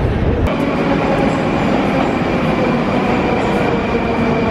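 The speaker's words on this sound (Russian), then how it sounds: "Услышала звук метро" Loud, steady roar of a Moscow metro train running, a dense rumbling rush with faint high squeal, close and continuous.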